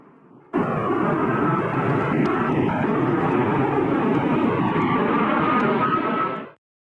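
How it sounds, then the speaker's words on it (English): Airbus A380 jet airliner going around after an aborted landing in strong crosswind turbulence: a loud, steady roar of jet engines rises abruptly and holds for several seconds before cutting off, with no voices. "It's definitely rare to get to see an Airbus A380 go around."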